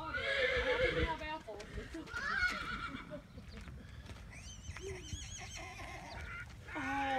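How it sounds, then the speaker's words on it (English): A donkey brays at a farm with several loud, harsh honking calls early on and fainter calls later, while people talk throughout. "Did you hear the donkey guys?"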